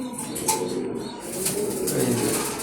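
A female racing pigeon coos softly in low, repeated murmurs, close by, with a faint flutter and background bird sounds and no talking.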